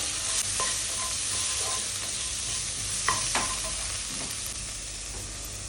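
Bitter gourd sautéed with salt in a pan gives off a steady, soft sizzle, broken by a few clinks and scrapes as the pieces are stirred; no one speaks.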